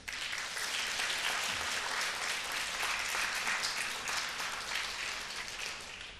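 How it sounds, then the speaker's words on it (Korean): A church congregation at a Sunday morning service at Songdeok Holiness Church breaks into warm, sustained applause, dense and continuous from many hands, easing slightly toward the end. "잠깐 일어나서 박수로 우리 한 개씩."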